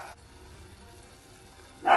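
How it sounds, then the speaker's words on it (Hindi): Joey, a pet dog, lets out a single short bark near the end of a quiet indoor stretch. A faint earlier yip comes through amid low household background noise. "और जोई भौंक रहा है।"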